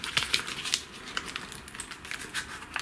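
A tight cardboard box of soap is worked open, giving close crinkling, scraping and crackling with small irregular snaps and taps throughout, with no voices.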